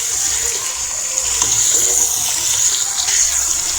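Chicken tikka frying in oil over a medium flame, a steady loud hissing sizzle that barely changes throughout.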